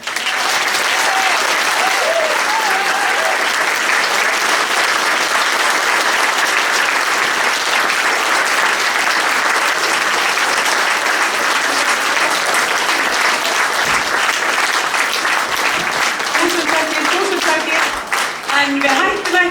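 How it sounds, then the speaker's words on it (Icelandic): An audience at a community cultural celebration in Árborg, Iceland claps long and steadily, a loud sustained ovation of many hands, with a voice faintly surfacing toward the close. "Gefið þeim gott klapp."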